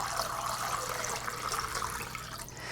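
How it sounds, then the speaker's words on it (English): Tap water runs steadily into a soup pot holding chicken, a continuous close splashing and rushing fill with no voices. "I'm just gonna cover this with water"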